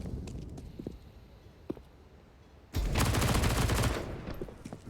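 Burst of gunfire from pistols in a Counter-Strike match on the Overpass map, Desert Eagle and Tec-9, starting abruptly after a quiet stretch and continuing as dense, loud rapid shots for about two seconds.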